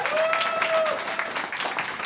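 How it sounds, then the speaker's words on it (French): An audience at a French comedy show applauds a comedian's entrance, a short burst of dense clapping with a tonal note and some crowd noise mixed in. "un tonnerre d'applaudissements pour Romain Rollin"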